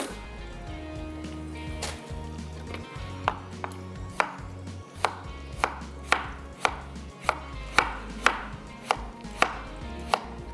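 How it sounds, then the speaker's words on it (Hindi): A knife chops carrots into julienne strips on a board, with sharp, distinct cuts that speed up into a steady rhythm, heard over soft background music. "गाजर को आपने बारीक बारीक काट लेना है, जुलियन कर लेना है।"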